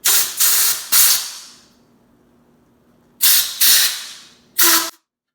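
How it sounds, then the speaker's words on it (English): Compressed air from an air hose blasts under a bike handlebar grip in three loud hissing bursts, the first two long and back to back, then a pause, then two shorter blasts close together, with no talking. "You're going to stick the air hose underneath."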